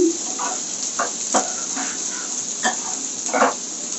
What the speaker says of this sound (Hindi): अब हम इसमें अनियन डाल देंगे, छोटा छोटा कटा चॉप अनियन डाल देंगे।